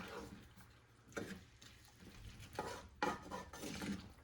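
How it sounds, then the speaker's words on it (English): Stirring red wine and vinegar in a cooking pan, with intermittent scraping and clinking bursts of the spoon against the pan over a soft background, several distinct strokes close by. "At this point, we'll add our red wine and vinegar. Give it a good stir."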